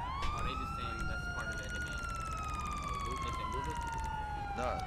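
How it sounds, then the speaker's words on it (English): A police car siren in the video game GTA wails continuously, sweeping up and down in pitch, fairly loud and steady against a faint background rumble. "Oh, the sirens, cut it."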